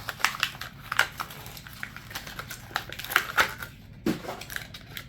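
Matchbox toy car packaging is torn open close up, with repeated crunching, crinkling rips of cardboard and plastic in uneven bursts.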